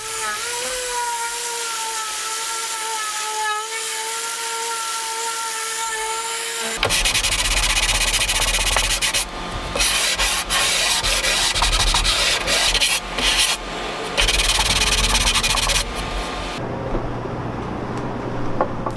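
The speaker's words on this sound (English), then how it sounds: "a bit of sanding for the entire carcass, working my way from 80 grit up to 180 grit" A sander works over a wooden table carcass with 80 to 180 grit, a loud, close, continuous rough rubbing and whirring in long passes with brief pauses, after a quieter tonal hum at the start.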